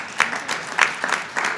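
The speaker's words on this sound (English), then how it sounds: "I don't know whether the applause was for the admission" An audience applauds after a speech by New Jersey Governor Chris Christie at an NAACP event, a short burst of scattered clapping with uneven peaks that quickly thins out.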